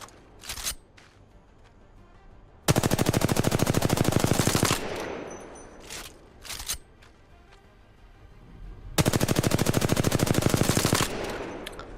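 Loud automatic weapon fire in the Apex Legends video game comes in two long rapid bursts of about two seconds each, separated by quieter in-game clicks and movement sounds.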